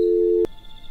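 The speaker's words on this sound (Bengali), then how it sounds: "কেয়ারটেকার ফোনটা কেটে দিল।" A telephone busy tone after a call is hung up in a cartoon: one steady electronic beep, sharp and clear, cut off abruptly after about half a second, then quiet.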